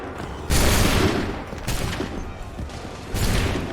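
Musket volleys in the Assassin's Creed 3 video game, loud crackling bursts of massed gunfire, one near the start and another near the end, with lingering rumble between.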